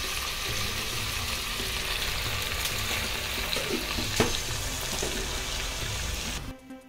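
Onions frying in a pan for mutton biryani make a dense, continuous crackling sizzle that stays close and even before cutting off abruptly near the end, with no voices.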